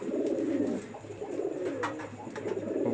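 Pigeons of a breeding pair kept for flying coo in low, rolling bursts, close by and fairly loud, with a steady murmur running through the whole stretch and no talk.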